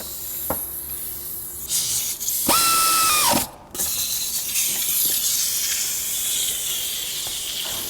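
A ratchet tightening heat shield bolts on a vehicle, a few clicking bursts and a brief mechanical whir, with quiet shop background between the sounds.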